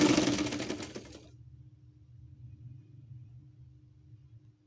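A sewing machine stitching a fabric patchwork basket runs with a fast, close mechanical whir for the first second, then stops, leaving a low motor hum and faint rumble.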